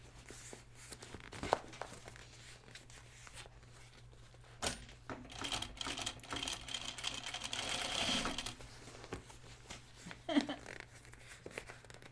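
A home sewing machine stitching an unfinished garment in steady bursts of mechanical whirring, fairly quiet and close, with brief pauses and a few clicks between runs.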